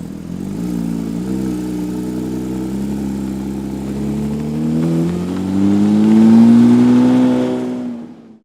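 A car engine revs steadily and climbs in pitch as the car pulls away, loud and close, then cuts off abruptly at the end with no voices.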